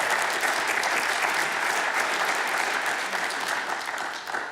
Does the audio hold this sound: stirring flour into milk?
no